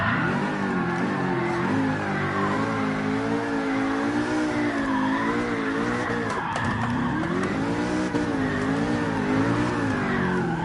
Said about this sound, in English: The response and the torque of this damn V8, and then this big ass turbo kicks in.